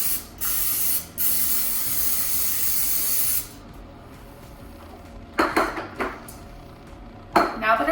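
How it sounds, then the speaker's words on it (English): Pam non-stick cooking spray hisses onto a cake pan in two short bursts and then a long, steady spray. After it stops, the metal pan clinks and clatters as it is handled. "I'm gonna use some Pam non-stick cooking spray to go ahead and line my cake pan"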